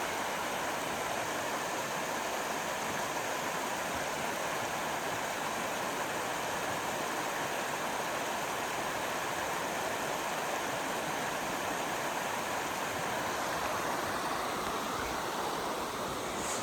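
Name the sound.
South Fork Silver Creek flowing, Silver Falls State Park, Oregon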